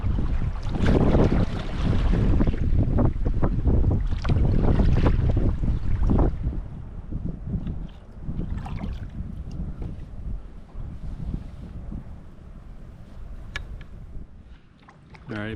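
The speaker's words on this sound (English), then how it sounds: "Just too windy out there. Right now it's not too bad, but it just keeps gusting." Strong wind buffets the microphone in heavy rumbling gusts while paddling, loudest early on, then settles into a lighter steady blow over open water.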